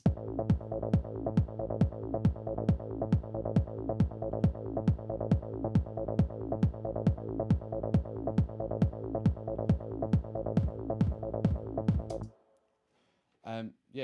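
A steady four-on-the-floor 909 kick drum thumps with a deep, droning synth bass line, looping evenly for about twelve seconds before cutting out.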